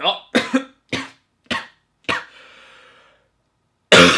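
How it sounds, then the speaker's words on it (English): A run of harsh, close coughs in quick bursts, trailing into a wheezy breath, then one more loud cough at the end. "That's the problem when I cough."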